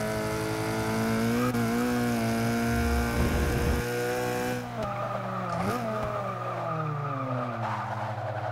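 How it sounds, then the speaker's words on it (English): An Alfa Romeo Stradale GTA in the Forza 6 racing game, its engine droning steadily while the tires squeal and spin briefly mid-run, then the revs drop and settle into a lower hum. "A little tire spin there."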